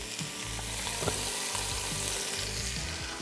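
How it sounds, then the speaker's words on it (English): Garlic and onion sizzle and fry in bacon grease inside a Ninja Foodi PossibleCooker Pro, a dense continuous crackle with scattered small pops and stirring clinks, close and steady. "I have a tablespoon of garlic that we're actually gonna saute in the bacon grease"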